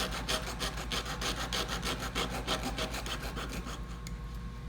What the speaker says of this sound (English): I'm just gonna start sawing through one side of that coil